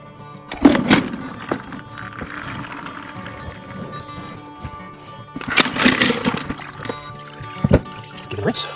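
Water and mookaite stones tipped out of containers, giving two loud bursts of pouring, clattering rock and splashing, one near the start and one about two-thirds through, with quieter handling sounds in between.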